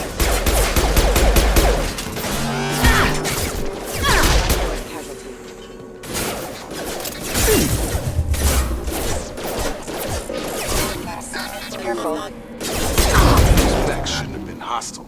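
Heavy gunfire and shotgun blasts in a Mass Effect 2 firefight against hostile mechs, dense bursts of loud shots and crashing impacts in rapid clusters throughout, with a voice briefly calling out over the action.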